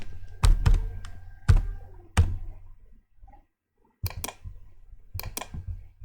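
Mouse clicks in Proteus circuit simulation software, several sharp, close taps in small pairs and singles with short quiet gaps between them, no talking.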